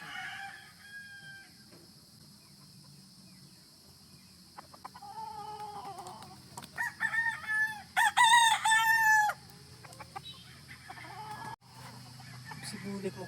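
A rooster crows loudly several times at a game farm, with chickens clucking softly in between, fairly close in an otherwise quiet setting.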